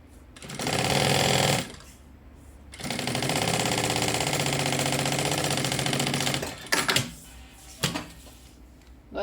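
Sewing machine stitching elastic on a fabric pouch, two rapid bursts of stitching, a short one then a longer steady run, followed by a few brief clunks and taps.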